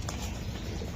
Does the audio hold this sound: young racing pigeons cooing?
yes